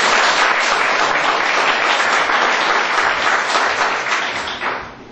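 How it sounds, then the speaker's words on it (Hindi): A loud, dense burst of audience applause at a motivational talk welcomes Rohit Raj, sustained and even before tapering off over the final second. "तो क्या एक बार जोरदार तालियां नहीं होती"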